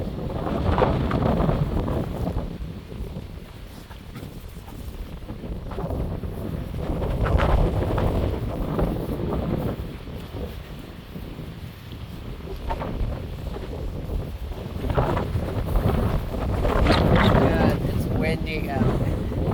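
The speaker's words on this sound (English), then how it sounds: "Windy out." Strong gusty wind buffets the microphone throughout a walk in a park, rising and falling in broad rumbling surges, with a person talking intermittently over it.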